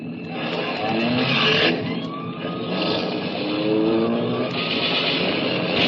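Car engine revving in a radio drama police chase, a loud whining motor that rises and falls in pitch with repeated surges, close and continuous without speech.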